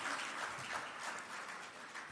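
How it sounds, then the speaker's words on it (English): Audience applause at an official programme launch event, a soft, steady patter of many hands clapping throughout, heard faintly from a distance. "Give yourselves a big round of applause for being here"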